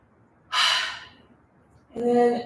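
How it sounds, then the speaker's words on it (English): Two big noisy exhales during a yoga breathing session, a loud breathy whoosh followed after a pause by a second, voiced sighing breath out, close and alone. "Feel free to make a few big exhales with some noise."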